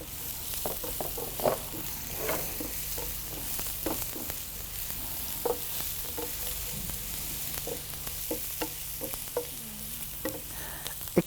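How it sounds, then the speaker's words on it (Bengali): Chopped onions fry in a pan with a continuous soft sizzle, punctuated by frequent light scraping and clicking as they are stirred, fairly quiet and close with no voices. "পেঁয়াজ কুচিটা দিয়ে দিলাম"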